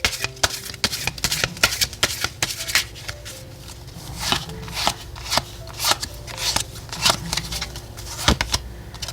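Oracle cards are shuffled by hand in a quick run of crisp riffling and flicking bursts, close and fairly quiet, with no talking.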